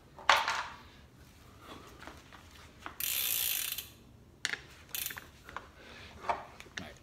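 An 8mm hex key tightens a bicycle pedal into the crank arm. Faint clicks lead into a short, sharp ratcheting burst, then a few more scattered clicks and a second brief rasp, all quiet and close.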